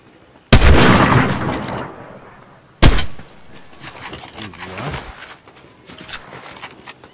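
Two sharp, loud gunshots in Fortnite ring out a couple of seconds apart, each decaying into a rumbling tail, followed by scattered quieter crackles.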